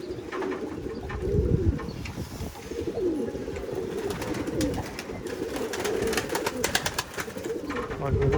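Pigeons coo steadily and close by in a loft, with wind rushing across the whole stretch and a faint voice briefly in the background.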